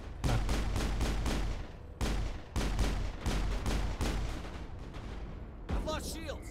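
Dense, loud gunfire from enemies shooting the player in the Mass Effect video game, rapid bursts packed into sustained volleys with short gaps, voices talking over part of it.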